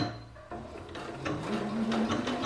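A sewing machine makes a short run of quick, close mechanical whirring as it stitches a backstitch to finish topstitching on a fabric snood.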